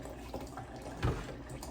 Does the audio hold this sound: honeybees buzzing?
no